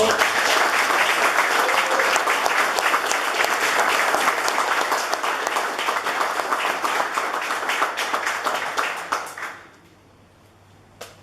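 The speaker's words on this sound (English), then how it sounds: "One more round of applause." A steady round of applause from an audience at an Army Order of the Bayonet medal presentation, dense clapping that continues for about nine seconds and then stops abruptly, leaving a quiet room.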